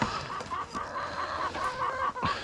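Chickens cluck repeatedly at close range, short rhythmic calls from a few birds with some faint shuffling in the background.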